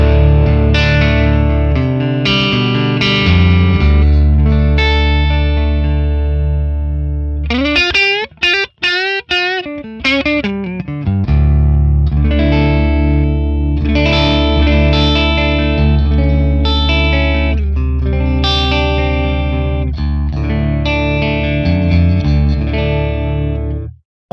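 Electric guitar on the neck pickup through a Friedman Plex DI tone model, dry with no reverb, playing sustained distorted chords and riffs with a brief choppy muted passage in the middle, loud and continuous.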